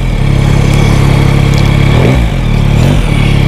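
Close, loud Yamaha Tracer 9GT motorcycle engine idling steadily, with two brief rising blips of revving partway through.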